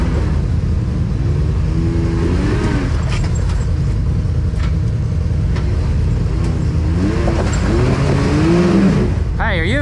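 A four-wheel drive vehicle revs hard while trying to pull, its engine droning loudly and continuously with rising and falling rev sweeps, and voices speak over the noise.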